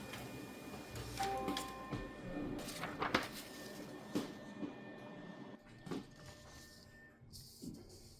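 Photocopier copying an illustration in an art study setting, quiet mechanical whirring with clicks, beeps and sliding thumps at irregular intervals, faint and close.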